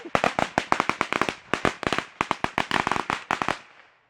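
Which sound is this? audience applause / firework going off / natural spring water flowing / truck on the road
firework going off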